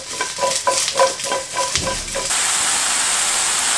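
Mushrooms frying in a hot pan with olive oil, a steady sizzle broken by rhythmic stirring scrapes in the first half, then a loud, even hiss for the rest.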